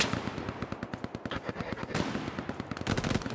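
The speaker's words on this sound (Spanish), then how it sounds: "Hay una ametralladora" Rapid machine gun fire in a video game rattles in a fast, steady stream of sharp shots, dense and fairly close, with no talk.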